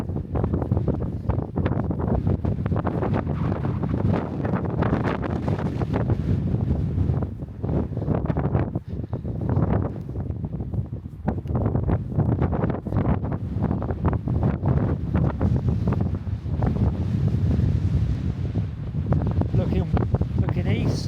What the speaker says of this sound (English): that is a cold breeze